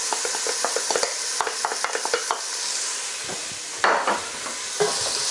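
Onions and garlic soften in a pan for a Gujarati butterbean and peanut curry, sizzling gently close by while a spoon stirs and scrapes the pan in short, irregular strokes.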